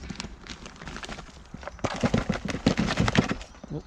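A plant pot of compost is shaken and tapped so the soil settles, a quick run of dry knocks and rattles close to the microphone that grows louder and busier in the second half.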